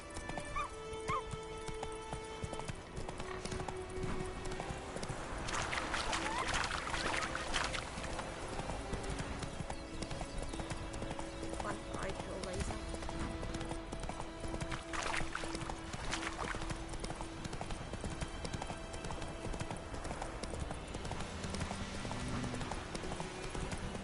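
Steady clip-clop of a ridden horse's hooves in The Witcher 3, a continuous trotting rhythm under game ambience and music, with a neigh and brief distant dog barking along the way.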